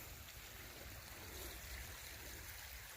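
A woodland creek about nine feet wide flows steadily in a state park forest, producing a soft, continuous watery rush that stays faint and even throughout, with no voices.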